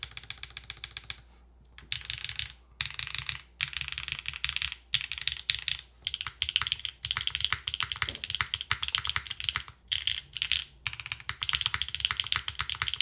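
Typing on a Neo 80cu custom mechanical keyboard, dense bursts of crisp, solid clacks in fast runs broken by short pauses, close and clear with no voices.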